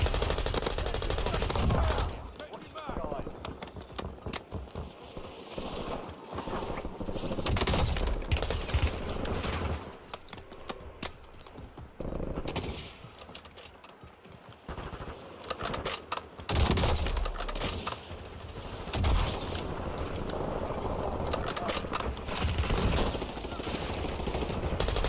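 Rapid automatic gunfire in the Battlefield 6 beta video game, with loud bursts and sustained volleys stopping and restarting over a steady background, with no talk.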